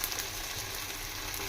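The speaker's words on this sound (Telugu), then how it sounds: "4 స్పూన్ అల్లం వెల్లుల్లి పేస్ట్ వేసుకొని ఇది బాగా పచ్చి వాసన పోయే వరకు ఫ్రై చేసుకోవాలా" Ginger garlic paste sizzles in a hot pan for mutton biryani, a dense, even crackle that holds steady and fairly loud throughout with no talking.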